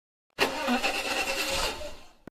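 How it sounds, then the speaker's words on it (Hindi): A scooter engine cranks with a sudden loud churning burst that sputters for under two seconds without catching, then fades and cuts off. "अरे यार ये स्कूटर स्टार्ट क्यों नहीं हो रहा है?"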